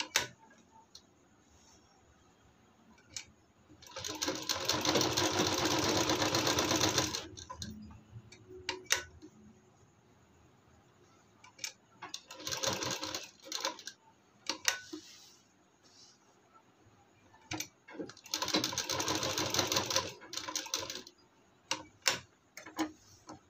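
A sewing machine stitches a suit's front neckline in three separate bursts of fast rattling mechanical whir, each a few seconds long, with quiet pauses and faint handling clicks between them.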